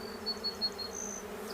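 A swarm of honeybees drones steadily outdoors, a dense, continuous buzzing hum with a few brief higher whines from individual bees passing close, moderately loud and with no voices.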